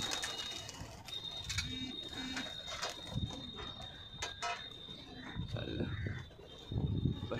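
Soft fancy pigeon cooing and wing flutters close by, mixed with rustling and handling noises, faint murmuring voices in the background.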